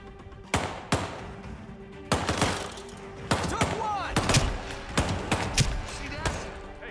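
Sharp gunshots from Hitman 3 gameplay ring out in irregular bursts, several loud cracks spaced across the clip with a voice talking between them.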